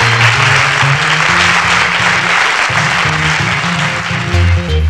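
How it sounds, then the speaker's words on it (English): Applause from an audience at a student innovator awards ceremony, a loud, dense and steady wash of many hands clapping that carries on through the whole stretch without a break. "let's give a big round of applause to the Student Innovators"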